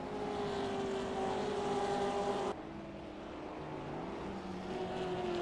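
Racing cars lap Oran Park circuit during a race round, engines droning steadily at a distance with a sustained tonal whine that shifts pitch as cars pass, continuous and without talk.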